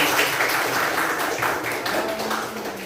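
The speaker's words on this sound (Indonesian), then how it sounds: "Tepuk tangan untuk kelompok ini." A class of students claps for a group of classmates, a short burst of dense, steady applause filling the room.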